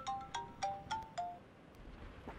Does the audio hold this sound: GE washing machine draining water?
no